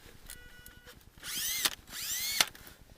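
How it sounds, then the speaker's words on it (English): Cordless drill bores into snowy ground to make a dirt hole for setting fox and coyote traps, two rising motor whines with grinding, close and fairly loud after a quiet start. "Have my cordless drill"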